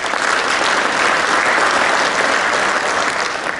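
An audience at a prescribed burning panel session applauds to welcome a speaker, with dense, steady clapping from a room-sized crowd holding at an even level from start to finish.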